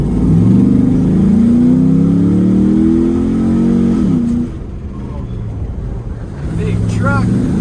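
Dodge Ram 1500 pickup with a 5.7 HEMI V8 and an exhaust leak, its engine droning and revving up and down from inside the cab, with someone talking over it and a quieter idle stretch near the end.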